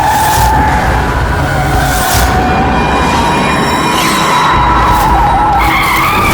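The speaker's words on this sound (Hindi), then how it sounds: "पेड़ से जाके ठोकी थी गाड़ी।" A car skidding out of control just before striking a tree, a sustained loud tire squeal over rumbling engine noise across the whole stretch, with no impact clearly set apart.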